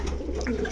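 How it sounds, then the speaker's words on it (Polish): Pigeons coo inside a racing pigeon loft, soft throaty burbling calls close by over a low background hum, brief and fairly quiet. "Także jesteśmy tutaj w gołębniku kolegi Jacka"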